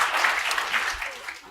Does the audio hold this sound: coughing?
no